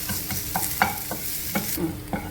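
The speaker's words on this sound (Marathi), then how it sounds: "कांदा हा मी भाजते आहे. तोही सोनेरी कलरवर भाजायचा आहे." Onion frying to a golden brown in a pan, a continuous close sizzle broken by regular scraping stirs of a spoon, loud and busy with no voices.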